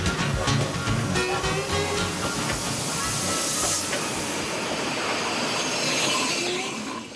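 A 1947 steam express locomotive, class 405.7, roars and hisses loudly and steadily on the railway, with continuous steam noise and faint rail squeal close by.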